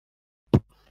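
A voice imitates a drum, a single short, punchy, low thump made close to the mic and standing alone against silence, during Indonesian sit-down comedy.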